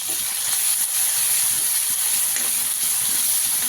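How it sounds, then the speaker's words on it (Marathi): Chopped green chillies fry in a hot pan for a potato curry, giving a steady, even hiss of oil sizzling throughout with no voices. "दोन तीन हिरव्या मिरच्या बारीक करून घेतलेल्या आहेत घालून घेऊया"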